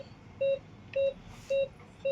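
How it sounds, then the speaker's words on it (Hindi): Short electronic beeps from an EMCO pulse oximeter, four evenly spaced tones repeating about every half second, clear and close over a faint hum. "यहाँ पे जो बीप साउंड है वो साइलेंट हो जाएगा"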